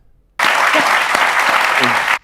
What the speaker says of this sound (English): Those claps sound real different, don't they?